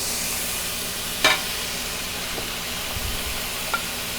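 Onions dropped into a pan of sizzling peppers for Italian sausage, peppers and onions: a steady broadband frying hiss with a sharp clatter near the start and a few soft stirring knocks later.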